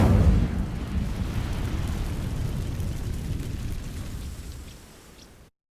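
A spell-cast burst of fire from the Incendio charm igniting dry vines in Hogwarts Legacy, opening with a loud whooshing flare that settles into a steady crackling burn and fades slowly.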